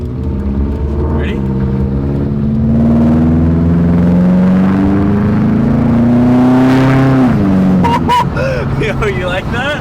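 A 2002 Subaru WRX bugeye fitted with new Tomei headers and up pipe accelerates hard from inside the cabin with the windows down. A loud, rising engine drone climbs steadily through the gear, then drops sharply at a shift, with brief voices near the end.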